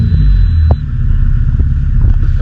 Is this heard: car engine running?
yes